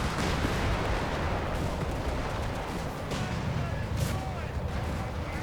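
Airstrike hitting armor in the video game Company of Heroes 3, a dense rumble of explosions and gunfire that stays loud and continuous, with a few sharper blasts near the end.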